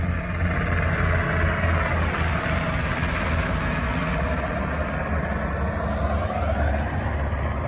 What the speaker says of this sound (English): We'll let the helicopter fly over here.